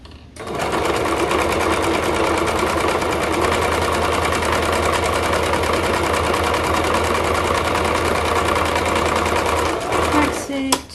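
A sewing machine runs continuously for about ten seconds, back stitching the hem of a pair of leggings, a loud, even mechanical whir and rapid needle clatter up close, stopping abruptly near the end.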